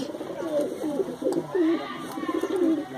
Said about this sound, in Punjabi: ਟੈਲੀ ਵਾਲੀ ਦਾ ਵੱਡਾ ਕਬੂਤਰ ਹੈਗਾ